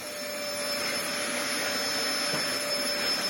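A clogged Dyson vacuum cleaner runs with a steady, strained whine and rushing airflow, loud and unbroken throughout.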